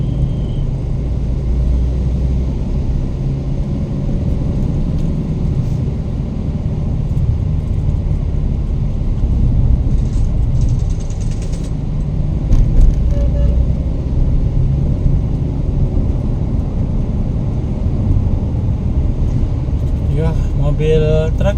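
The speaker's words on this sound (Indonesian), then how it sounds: "Mobil truk keluar." Cars and trucks pass on the busy Medan–Banda Aceh interprovincial highway, a continuous low rumble of traffic with occasional louder swells as vehicles go by. People talk throughout.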